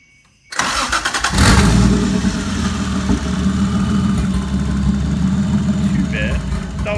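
After the fitting of bigger injectors, an engine cranks and catches abruptly from silence, then settles into a loud, rough, steady idle close by, and a voice talks briefly over it.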